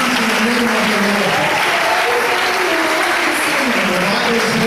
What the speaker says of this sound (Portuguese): won't you put your hands together